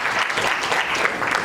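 An audience at a Shrimad Bhagwat katha gathering claps together in a dense, continuous burst of applause, loud and close, with no pauses.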